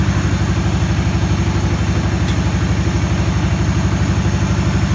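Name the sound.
Yazoo MidMax 52 mower engine idling after cold start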